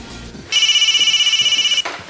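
A mobile phone ringtone rings loudly and close, a bright warbling electronic tone lasting just over a second before it cuts off.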